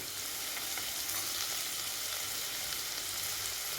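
Tomatoes sauté in a pan for a jackfruit seed kurma, giving a continuous even sizzle with faint stirring throughout, close and moderately quiet, no voices.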